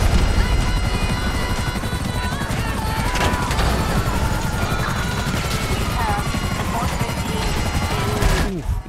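A helicopter in Grand Theft Auto V, damaged and trailing smoke from its tail, gives a steady loud rotor drone with clattering debris and crashes scattered through it, ending in a sharp burst near the close.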